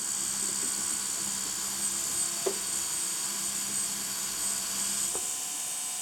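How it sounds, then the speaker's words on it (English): A small fischertechnik model propeller spins on its motor, giving a steady, quiet whirring hum with faint tonal whine and a couple of soft clicks, heard alone. "So you see the propeller run, so that's alright."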